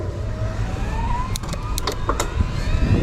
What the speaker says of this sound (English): You can really hear that motor responding even though I'm pedaling at a high rate